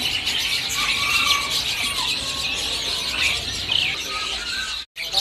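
Cucak ranting birds call steadily at a bird market kiosk, a dense run of bright, high chirps and squeaky notes filling the whole stretch, with a brief dropout near the end.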